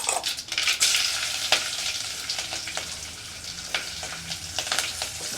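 Mustard seeds, cumin and asafoetida sizzle and crackle steadily in hot oil, with sharp popping bursts from the seeds scattered over a continuous frying hiss, close and moderately loud, no talking.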